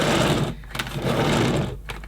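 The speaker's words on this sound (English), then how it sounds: "So out comes the 10-meter mains cord, just the same as standard Henry." Whirring, ratcheting rattle of the 10-metre mains cord being pulled out of a Numatic Henry Eco vacuum cleaner, close and fairly loud, with brief pauses between pulls.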